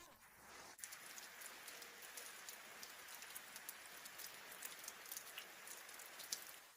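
Steady rain falling on a country pond, a soft continuous patter with scattered drops hitting a surface nearby, no voices.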